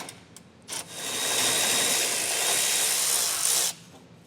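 A power tool spins off nuts while a Curt trailer hitch receiver is installed on a 2025 Mazda CX-70: two short whirring bursts, then a sustained close, loud whine of about three seconds that stops abruptly.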